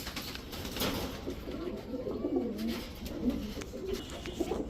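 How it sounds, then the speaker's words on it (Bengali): Road Master pigeons, two pairs kept for sale, coo softly in a low murmuring chorus at close range, with continuous background noise and no talk over them. "এই হচ্ছে টোটাল 2 জোড়া, সব রোড মাস্টার কবুতর যাবে।"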